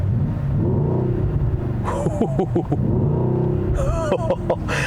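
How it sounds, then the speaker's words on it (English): The exhaust of a 2021 Mercedes-AMG GLE 63 S SUV in race mode gives a deep, steady rumbling idle, then two quick blips of revving around the middle and end, with someone talking over it. "you put it into race mode and hear the exhaust."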